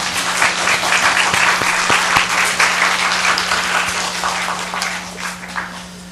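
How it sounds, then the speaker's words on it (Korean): Sustained applause from a church congregation at a New Year's Eve service, dense and steady clapping filling the room for several seconds with a faint electrical hum beneath. "우리 함께 영광의 박수 한번 올려드리겠습니다."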